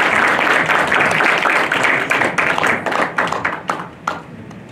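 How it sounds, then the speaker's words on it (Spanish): Applause from an assembly gathering, a dense burst of clapping that thins out toward the end into a few scattered, distinct claps before fading. "Un aplauso"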